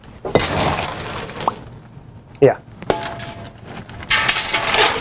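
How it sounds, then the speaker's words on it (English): Ice cubes drop into water to chill a batch of kombucha tea, giving a few sharp clinks and clattering knocks spaced over several seconds, with a brief voice in between. "So we can put some ice cubes in to help chill it so we can do this a little quicker."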